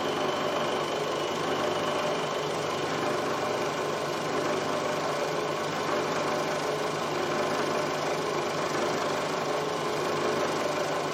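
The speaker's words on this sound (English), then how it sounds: "that racket you can hear in the background, I apologise for, is building works again." Building works run in the background of a workshop where a Briggs & Stratton engine is being converted to an air compressor. The sound is a steady, continuous mechanical drone with a vibrating, machine-like buzz, moderately loud and unbroken throughout.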